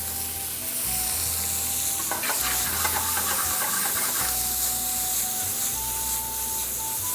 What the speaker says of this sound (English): This is when we add our garlic, our chopped garlic.